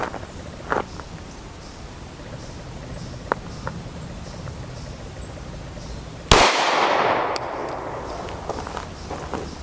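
A pistol shot from an M&P with a 4.95-inch barrel slams into a Level IIIA body armor vest, one sharp loud crack followed by a lingering ring, with faint clicks and light handling noise beforehand.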